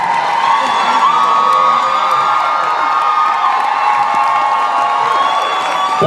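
A large hometown convention crowd in Vancouver at Salute to Supernatural roars with continuous high-pitched screaming and cheering, loud and unbroken throughout.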